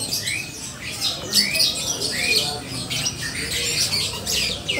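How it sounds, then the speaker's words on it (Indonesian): Many birds squawk and chirp at once at a bird market in Mataram, Lombok, in a busy, crowded chorus, sharp calls overlapping continuously with no pauses. "Di sini ada banyak jenis burung."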